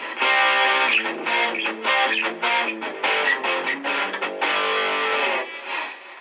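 A Boss Katana amp set to distortion, an electric guitar playing loud, saturated strummed chords in choppy bursts and held notes, close and with no talk over it.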